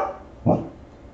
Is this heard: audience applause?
no